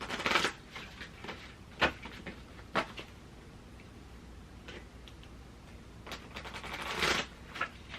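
Soft, papery riffles and taps as cards are shuffled in short bursts, fairly quiet and close, with pauses between handfuls.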